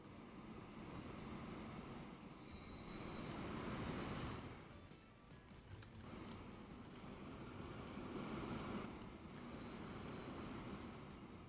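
Trains running on track in the video game Transport Fever, a soft, steady rail rumble with swelling passes and a brief tonal whistle or squeal early on, faint and continuous.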